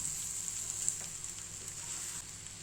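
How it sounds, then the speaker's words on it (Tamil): Egg stirred through a masala mixture in a hot frying pan, giving a steady, even sizzle close by with faint scraping, no voices. "இந்த மாதிரி முட்டையை போட்டு நல்லா கிண்டி எடுத்துக்கோங்க"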